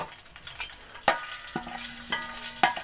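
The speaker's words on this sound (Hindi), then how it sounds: "इसको मैं थोड़ी देर तड़का लूँगी" Whole garam masala tempering in hot oil over a low flame for Kashmiri chicken pulao, a close, continuous crackling sizzle punctuated by a few sharp stirring clinks.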